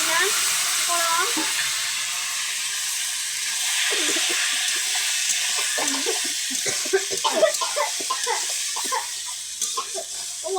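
Whole spices, dried and green chilies, and white and black mustard seeds tempering in hot oil for a vegetable dish, a steady sizzling hiss with crackling pops that grow busier toward the end, faint voice underneath.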